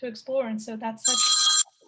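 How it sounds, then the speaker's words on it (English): Mobile phone ringtone breaks in loudly over a speaker's voice, a bright, shimmering bell-like trill lasting about half a second right after the talking. "that's my phone going off because I don't know how to turn all this stuff off"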